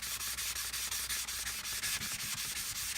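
A sharpening stone is rubbed flat on wet sanding paper laid over a known flat surface, giving a steady, close, rhythmic gritty scrape in even back-and-forth strokes, about three per second, with no voices.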